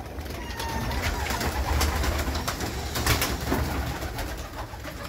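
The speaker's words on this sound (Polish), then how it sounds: "gołębie tam powychodziły, a tam też sobie, tam też się kąpały" Pigeons coo at a pigeon loft, soft repeated low calls close by over a steady busy background of rustling, fluttering and faint birdsong.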